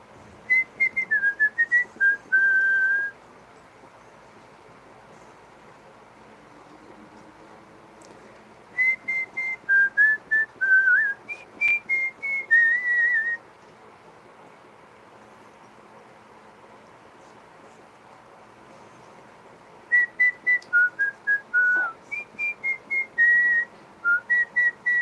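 An Amazon parrot whistles short melodic phrases of rising and falling notes, clear and close, in three separate bursts with quiet gaps of faint background hiss between them.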